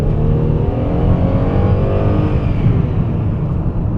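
A 2003 Chrysler Concorde Limited engine under full throttle through a four-speed automatic, a steady, loud droning rumble with a slowly rising pitch heard from inside the cabin, no talking.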